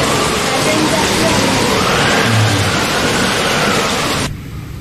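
The heavy first rain of the season pours down as a dense, roaring wash of noise that stays loud and even, then drops off abruptly near the end.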